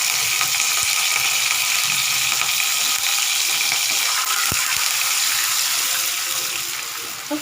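Curry leaves and fennel seeds fry in hot oil in a kadai while a guava soup is being made, giving a loud, steady sizzle and hiss that runs unbroken for several seconds with no talking.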